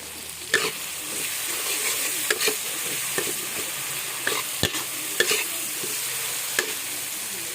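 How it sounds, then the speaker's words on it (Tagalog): Food sizzling steadily in a hot frying pan while a utensil stirs it, with several sharp scraping clinks against the pan breaking through the constant hiss. "haluin na po natin"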